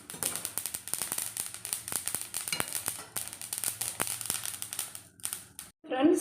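Spices splutter and crackle in hot oil in a home kitchen while making idli podi, a dense run of sharp pops and sizzling that fades near the end, followed by a brief thump.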